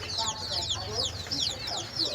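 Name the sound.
chickens clucking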